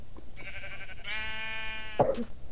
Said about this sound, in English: I just heard a sheep and that sounded so weird